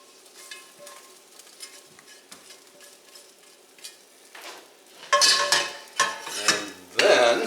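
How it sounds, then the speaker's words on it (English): A spatula scrapes cooked chicken and vegetables out of a skillet for fried rice, faint sizzling giving way to louder metallic scraping and clattering strokes near the end. "So I'm going to transfer the chicken and the veggies to a pie plate."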